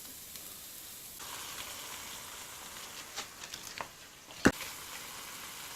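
Onion frying in a pan for braised pork belly, a soft, steady sizzle with a few light stirring scrapes and one sharp knock near the end, no talk.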